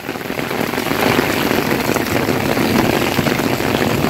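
Hailstones fall in a dense, steady patter and splash on outdoor surfaces during a heavy storm in Valencia, a loud continuous rattle that holds through the clip with no one talking.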